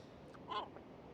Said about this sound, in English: That is one noisy seagull, isn't it?